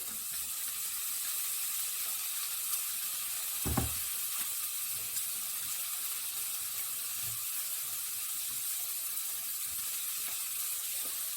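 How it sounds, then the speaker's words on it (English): Onion dropped into a hot pan, a faint, steady hiss of frying with one brief louder thud as it lands, otherwise quiet and even. "And then in goes the onion."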